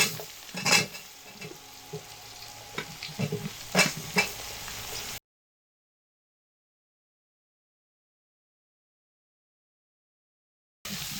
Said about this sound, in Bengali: আলুর মধ্যে স্বাদ মতো নুন আর পরিমাণ মতো হলুদ গুঁড়ো দিয়ে 5 মিনিট ধরে ভেজে নেব।